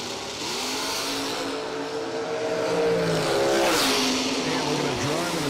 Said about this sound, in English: Mike White coming out the 63 split level Corvette, power underneath the hood, 467